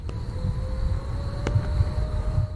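A thin, steady siren-like whine in a creepy video game, a faint sustained tone drifting slightly in pitch over a low rumbling ambience, with a couple of brief clicks.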